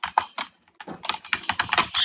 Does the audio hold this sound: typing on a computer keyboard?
yes